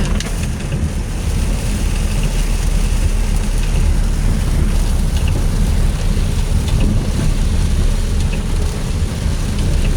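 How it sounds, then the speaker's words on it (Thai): Heavy rain pounds steadily on a car during a drive, a loud, dense, unbroken roar with no talking. "ฝนตกแรงมากค่ะ"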